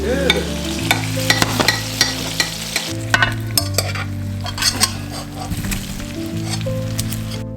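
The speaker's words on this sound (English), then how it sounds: "I'm going to pop them in the big pan with the beef now and cook them with the beef for a while" Potatoes fry with beef in a big pan, a steady sizzle under frequent clattering stirs and scrapes of a utensil against the metal, loud and close, with no voices.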